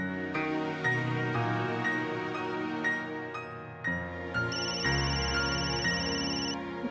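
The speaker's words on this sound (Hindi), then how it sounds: "आपका फोन आया है" A telephone rings in a home with a melodic electronic ringtone over soft background music, repeating at moderate volume, with no talking.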